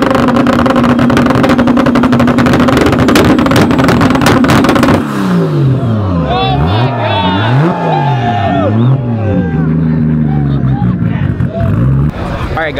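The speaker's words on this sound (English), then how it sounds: "that super revving was freaking crazy" A car engine revs hard in a loud, continuous roar, then swoops up and down in repeated rising and falling revs, with crowd chatter underneath.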